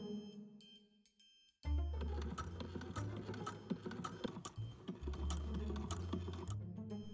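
A sewing machine stitches down the lining of an 1890s-style historical bathing costume in quick motorised bursts with a rapid mechanical clatter and a low hum, close by. It follows a quieter stretch, and no one speaks.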